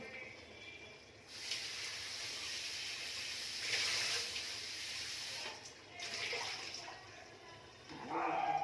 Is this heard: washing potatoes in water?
yes